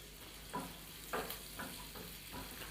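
Onion frying in a pan on a home stove, a quiet steady sizzle broken by several soft scraping stirs at regular intervals.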